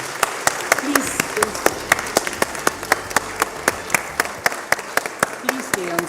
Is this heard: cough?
no